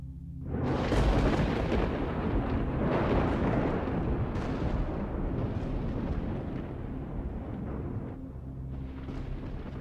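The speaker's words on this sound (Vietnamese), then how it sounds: "Bất ngờ một tia sét ở trên tầng không sáng rực cùng với tiếng đinh tai nhức óc" A heavy thunder sound effect from a lightning strike: a sudden crack swelling into a deep, sustained rumbling roar that rolls on for several seconds before easing off.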